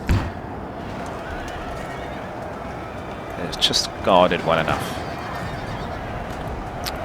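Cavalry horses neigh in a Napoleon: Total War battle, a whinnying burst rising midway through the clip over steady battlefield noise, while someone talks over the scene.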